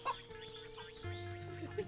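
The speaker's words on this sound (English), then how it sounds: "these chickens are so goddamn loud" Chickens clucking in the video game Wytchwood, a run of close, fairly loud clucks and squawks over a steady background music bed.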